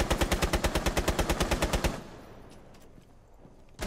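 Rapid automatic gunfire in Rainbow Six Siege aimed at the player, a loud, steady burst of about fifteen evenly spaced shots lasting two seconds, then a quieter stretch with faint scattered clicks and a sharp hit at the end.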